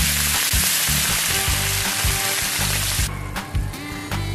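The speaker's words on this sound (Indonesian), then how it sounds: "tumis sampai baunya keluar" Steady crackling sizzle of onion sautéing in a hot pan, loud and close, with clinks and stirring thumps throughout.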